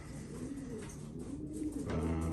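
Trenton pigeons give soft, low, rolling coos nearby, with a steady murmur that swells toward the end and no one speaking.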